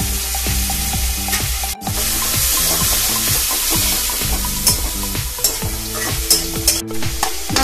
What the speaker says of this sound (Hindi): थोड़ा सा भून लेंगे, घिसा हुआ टमाटर भी डाल देंगे